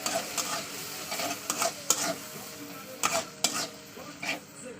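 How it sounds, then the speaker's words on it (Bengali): Shrimp tossed with salt and turmeric sizzles in a pan, with repeated scraping spatula strokes in an uneven rhythm over a steady close frying hiss. "এক চামচ লবণ এক চামচ হলুদ গুঁড়ো একসঙ্গে দিয়ে দিলাম দিয়ে ভালো করে চিংড়ির সঙ্গে কষিয়ে নেবো"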